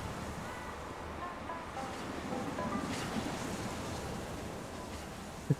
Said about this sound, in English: Recorded waves crashing.